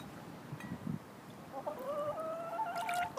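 Hens cluck softly and make a few higher squawking calls while being bathed, close and fairly quiet over faint background noise.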